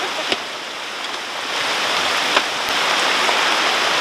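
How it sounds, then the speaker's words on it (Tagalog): Heavy rain pours steadily outdoors at an overnight fieldwork camp, a dense, loud hiss throughout, with a few sharper drips or taps on a surface. "ang lakas ng ulan guys"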